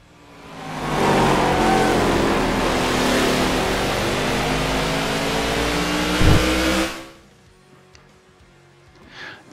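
A NASCAR race car in a racing video game roars past at full throttle, its engine note rising and holding loud and steady for several seconds before cutting off abruptly into near silence.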